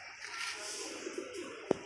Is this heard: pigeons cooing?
yes